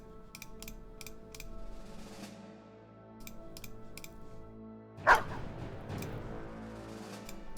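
A dog in a video game lets out a single loud, short bark that stands out over a quieter backdrop of ambient game music and rapid clicking.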